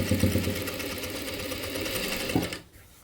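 A sewing machine stitches a work blouse, its steady motor whir running close and continuous for over two seconds before stopping abruptly.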